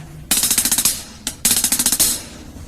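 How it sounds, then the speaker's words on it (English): A nine-stroke roll played on a hi-hat, with crisp, bright, rapid ticking strokes in two loud bursts separated by a single accent, close up and without speech. "And on the hi-hat."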